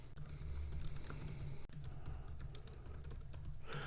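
Fast typing on a computer keyboard, a dense run of close key clicks continuing for several seconds over a steady low hum.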